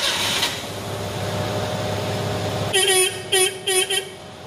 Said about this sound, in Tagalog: dito nga ay may nakita akong lumang busina na siyang gagamitin natin sa pag-testing.